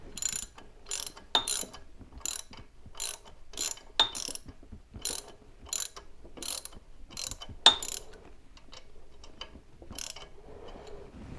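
A ratchet tightens a water pump bolt on a C3 Corvette 350 small-block engine, in close, repeated bursts of quick clicking with short pauses between strokes and no talking.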